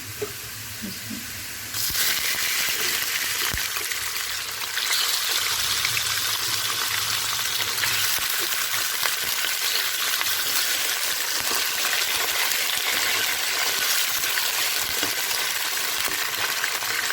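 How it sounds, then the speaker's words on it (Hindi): Chicken pieces frying in a pan with lightly browned onions, a loud, steady sizzle and hiss that jumps up sharply after a quieter start and keeps crackling close by, with no talking. "इसको हम थोड़ा सा भून लेंगे, जिसमें इसका कलर नहीं चेंज होता।"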